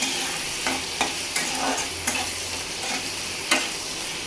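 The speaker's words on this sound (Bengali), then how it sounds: "আগে শুটকি মাছটাকে ভাইজা নিব, একটু ভাইজা আমি শুকনা খোলায় ভাইজা" Soaked dried fish dry-fried in a pan with no oil, heard as a soft continuous sizzle broken by regular light scraping stirs every half second or so, close and steady.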